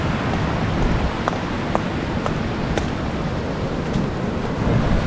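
Strong floodwater rushes down a river during a typhoon, a continuous loud roar of churning water with a few faint sharp ticks over it and no speech.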